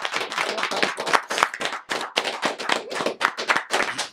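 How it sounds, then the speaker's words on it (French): Audience applause breaks out in a French-speaking panel gathering, a dense run of close, bright hand claps sustained throughout with a few sharper slaps standing out. "on applaudit encore, s'il vous plaît."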